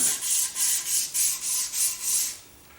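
A sheet of 320-grit sandpaper works across a surface in even back-and-forth strokes. About seven rhythmic, hissing swipes sound up close and loud before they fade.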